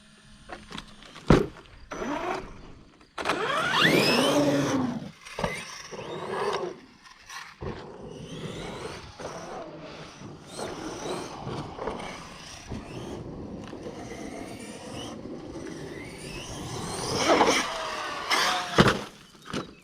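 A Traxxas Sledge RC car runs on a pump track, its electric motor whining up and down in sharp bursts as it accelerates, jumps and brakes, with brief knocks and quieter gaps between runs.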